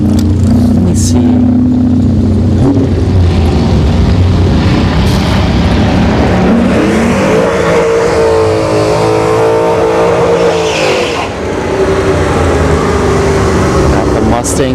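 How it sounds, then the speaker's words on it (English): A Ford Mustang at a drag strip during a test-and-tune session at ShowTime Dragstrip, its engine a loud, continuous drone that climbs in revs through the middle and then holds steady over broad background noise. "Got the Mustang coming back."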